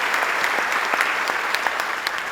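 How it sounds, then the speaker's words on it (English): Audience applause for Senator Kennedy at a governor's announcement of the SolarCity GigaFactory complex at RiverBend: dense, even clapping from a sizable crowd, steady and moderately loud with no talk over it. "Special round of applause to Senator Kennedy"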